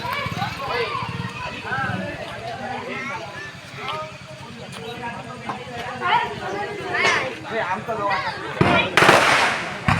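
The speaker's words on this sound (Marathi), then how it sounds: "फटाक्यांची माळ लावतायत." A string of firecrackers crackles in rapid bursts during a Ganesh immersion procession, set against a dense crowd of people talking and a louder burst of pops near the end.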